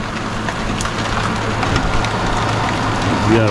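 Steady rain pours down outdoors on a hot summer day after a long dry spell, a dense continuous hiss of drops hitting surfaces, loud and close throughout with no talking.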